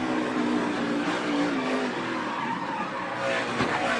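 NASCAR race cars from 2014 skid during a wreck, with tire squeal and engine roar blending into a continuous, loud broadcast-style din. A brief sharp impact comes late in the clip.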